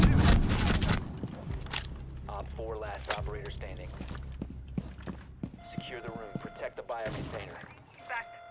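Video game gunfire: bursts of rapid shots up front, then scattered single shots and clatter, with a voice talking over much of it.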